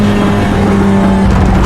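A Mazda MX-5 race car engine on the Road Atlanta circuit in the iRacing game, a loud, steady engine drone with a sustained tone that rises slightly at the end.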